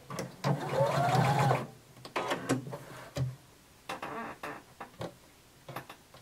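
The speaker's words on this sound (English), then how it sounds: "at my notch, I'm going to back stitch" A home sewing machine backstitches at a notch on a Simplicity pattern seam, a loud steady whirring run of stitching followed by a few short bursts and clicks as the machine stops and restarts nearby.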